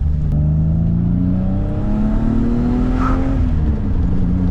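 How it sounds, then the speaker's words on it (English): A 336k-mile BMW E34 M5 engine, running a bit harsh on fresh 93 octane, revs up loud and close, its pitch climbing and falling through several throttle sweeps with no talking. "this thing literally revs out fine"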